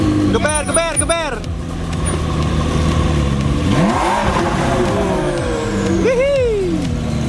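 Supercar engines such as an orange McLaren and a Ferrari revving nearby on a street, with rising and falling throttle blips and sweeps over busy traffic, while several people talk excitedly throughout.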